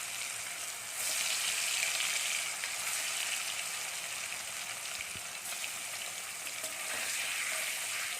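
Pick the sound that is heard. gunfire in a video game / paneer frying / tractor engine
paneer frying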